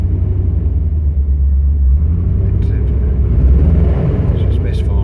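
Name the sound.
Range Rover Classic engine revving on petrol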